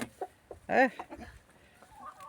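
Chickens cluck in a small greenhouse where cabbage is being grown, a few short near calls with one louder burst in the middle, with sparse movement noise around them.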